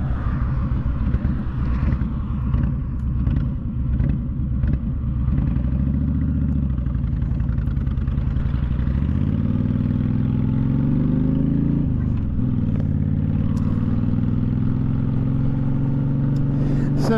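Road traffic and a motorcycle's own engine heard from the saddle while riding, a steady loud low rumble that rises in pitch as the bike accelerates, with passing vehicles mixed in throughout.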